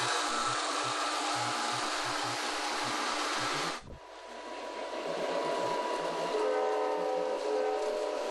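A Lionel toy train runs over a 12721 extension bridge with flashing light, a loud rushing rumble that cuts off sharply midway and then builds back more faintly with a thin tonal whine.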